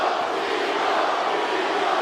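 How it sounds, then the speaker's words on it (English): A UFC arena crowd roars in a dense, steady wash of cheering and shouting for fighter Chito Vera, sustained and fairly loud throughout. "Big crowd support for Chito here."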